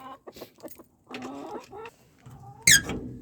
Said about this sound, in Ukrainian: оцей півень ганяє все ж таки другого півня